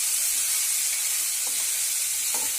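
Soaked and dried daliya (broken wheat) fries in a pan over low flame, a steady close sizzle with a few faint stirring clinks scattered through it.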